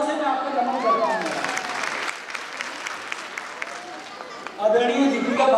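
Strong applause from an assembly hall audience fills the middle, a dense roar of clapping hands, while someone speaks over the start and again near the end.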